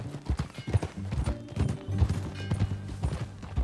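Horse hooves clip-clop in a quick, steady trot in the Red Dead Redemption 2 video game, a close rhythmic clatter of hoofbeats without speech.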